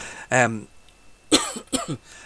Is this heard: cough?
yes